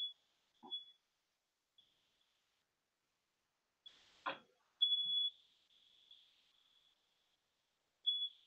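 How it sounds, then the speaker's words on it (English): A faulty smoke detector whose battery needs changing gives thin high beeps and a longer sustained chirp, faint and intermittent with quiet gaps and a few small knocks. "We have a really weird smoke detector"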